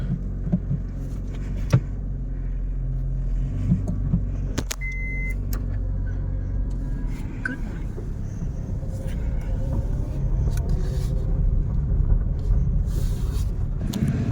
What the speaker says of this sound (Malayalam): ഗൈസ് നമ്മളൊരു ഗ്ലാൻസ് ടെസ്റ്റ് ഡ്രൈവ് അടിക്കുകയാണ്